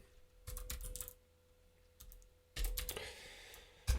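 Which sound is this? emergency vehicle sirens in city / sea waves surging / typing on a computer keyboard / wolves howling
typing on a computer keyboard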